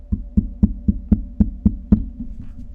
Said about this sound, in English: Another knock.